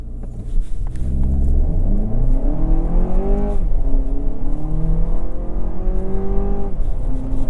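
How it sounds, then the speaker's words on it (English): A 2024 Lexus TX500h F Sport hybrid accelerates hard from inside the cabin, its engine note climbing through several rising gear pulls with a steady rumble and whir beneath. "Now I'm going to try a quick acceleration."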